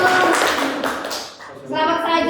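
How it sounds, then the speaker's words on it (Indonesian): Group applause in a classroom microteaching session, a short burst of many hands clapping that fades briefly, then rises again loud and close. "beri tepuk tangan untuk kelompok"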